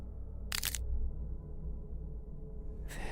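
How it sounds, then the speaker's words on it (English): Cracking sounds as fragments of a face break away in the horror narrative game (Don't) Open Your Eyes: two short, sharp bright bursts, one early and one at the very end, over a steady low ambient drone. "little pieces seem to fall off my face, one after another, making a cracking sound as they go"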